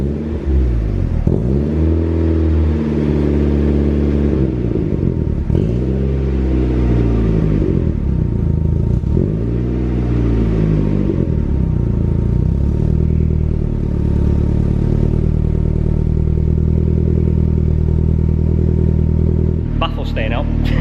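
A Mazda MX5 fitted with an M2 Motorsport exhaust, baffle removed, is revved repeatedly, each loud, deep blip rising and falling before a steady idle, close by and on its own.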